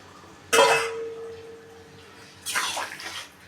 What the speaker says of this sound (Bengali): আমি এখন গরম জলটাও দিয়ে দিলাম